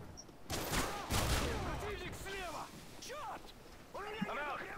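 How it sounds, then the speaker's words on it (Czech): Gunfire in Call of Duty Modern Warfare 3 crackles in rapid bursts and scattered single shots, fairly loud and dense throughout, with players talking over it. "O, už to tu střílí všechno"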